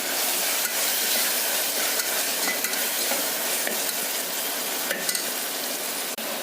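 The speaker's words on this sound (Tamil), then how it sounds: "நல்லா வதக்கின பிறகு ஒரு தக்காளியை போட்டு நல்லா வதக்கிடுங்க." Tomato with onions sautéing in a pan, a steady close sizzle and hiss running throughout, with a few faint scrapes of a spoon stirring.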